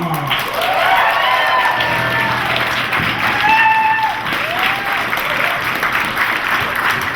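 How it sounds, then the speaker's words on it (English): A theatre audience at The Hippodrome applauding a variety-show performer, sustained loud clapping throughout with scattered whoops and whistles rising above it. "may I hear one more zealous round of applause for Kyoko Uchida!"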